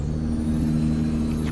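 A truck in Euro Truck Simulator 2 rolling down a ramp, its engine a loud, steady low drone with a faint high whine over it, unbroken for the whole moment.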